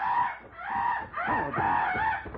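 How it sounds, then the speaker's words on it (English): A bird calls out loudly and alone in a few drawn-out, clucking, rooster-like bursts, close by. "A bird in the top of that tree."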